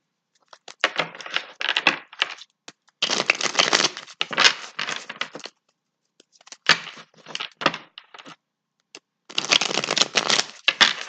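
Several bursts of cards being riffled and shuffled, each lasting a second or two, separated by short pauses. Close and crisp, no talking.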